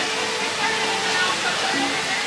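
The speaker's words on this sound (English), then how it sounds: "it's right here near the waterfall" A waterfall at Disney California Adventure gives a loud, constant rushing hiss of falling water, close by and unbroken throughout, with no voices over it.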